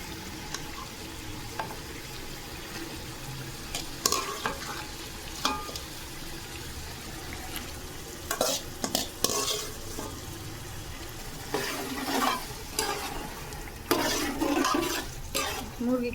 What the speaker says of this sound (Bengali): মশলা কষানো হয়ে গেছে, এখন মুরগি দিব।